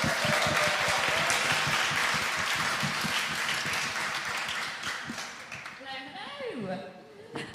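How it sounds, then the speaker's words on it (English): An audience gives a round of applause at the end of a panel discussion, a dense, steady clapping that is loud at first and gradually thins and fades, with faint voices rising near the end. "Round of applause."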